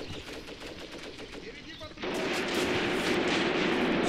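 Halfway through a video game battle in Graviteam Tactics, an MG42 machine gun opens up with a sudden, loud, continuous rattle of rapid fire that drowns out the quieter gunfire before it.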